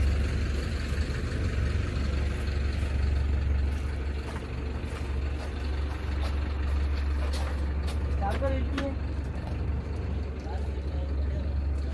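A newly launched VRL AC sleeper bus idles with a steady, loud low rumble, a continuous engine drone filling the whole stretch while faint voices and small clatters sit underneath.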